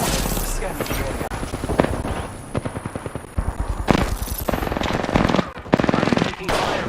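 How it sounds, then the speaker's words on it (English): Rapid automatic gunfire from the video game Apex Legends, loud bursts of rattling shots with brief gaps, mixed with game voice lines and other effects. "I'm taking fire, friends."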